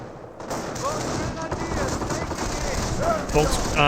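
Rapid battle gunfire in the World War II strategy game Company of Heroes, with American forces and Greyhound armored cars pushing against Wehrmacht Grenadiers, forms a dense, steady crackle that continues through the clip alongside other game sounds.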